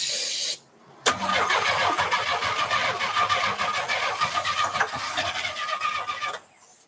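A 1949 Studebaker Champion engine cranks on starting fluid, a steady loud churning grind with a faint squeal running about six seconds after a short pause, then cutting off without catching.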